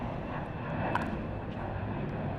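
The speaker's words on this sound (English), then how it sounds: "it sounds like a war zone with the airplanes going over. You guys can hear that." Airplanes fly low over an outdoor pickleball tournament near LaGuardia Airport in New York City, and their jet engines make a loud, continuous roar that fills the whole stretch without letting up.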